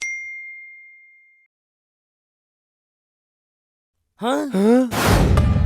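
A phone notification chime for an incoming photo gives a single clear ding that rings out and fades, followed after a pause by voiced sighing and exclaiming sounds.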